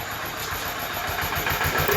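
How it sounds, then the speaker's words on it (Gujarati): A Suzuki motorcycle engine drives a farm cultivator in a village field, a steady close mid-pitched drone with a rapid throbbing pulse that stays loud and even throughout, with no talking. "સુઝુકી બાઇકમાં કળિયું હલાવે છે"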